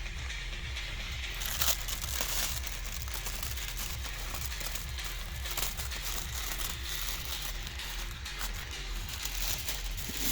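Plastic packaging of an Intex 26356 pool is unpacked close by, a steady dense crinkling and crumpling with rustling bursts throughout, no speech.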